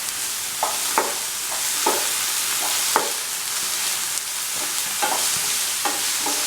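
Onions frying with ginger and garlic in a pan for tomato stew, a steady sizzle with repeated scraping stirs, close and moderately loud, without talk.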